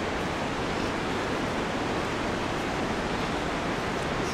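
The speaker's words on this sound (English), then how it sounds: "It's beginning to rain." Steady rain falling outdoors in Yosemite in June, a constant dense hiss of broadband noise with no breaks, close and even throughout.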